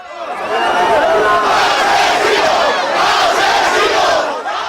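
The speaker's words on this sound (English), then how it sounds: "A hostile crowd greeted them with cries of asesino, or killer in English" A hostile crowd of protesters in Paiporta, near Valencia, shouts and chants angrily after deadly flash floods. Many voices blend into a loud, continuous roar that stays intense throughout.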